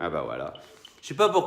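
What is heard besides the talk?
No distinct noise like a dog, phone or traffic.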